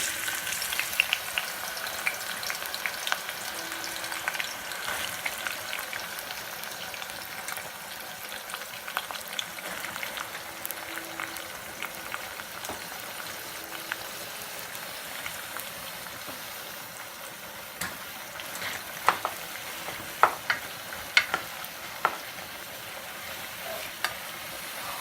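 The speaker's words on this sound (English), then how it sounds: "this is hot oil. I'm gonna add in, sorry for the pot. I'm gonna add in the chopped onions." Chopped onions sizzling and frying in hot oil in a pot for Ghana-style jollof rice, a steady soft crackle with scattered louder pops and a few stirring clicks, heard close with no talking.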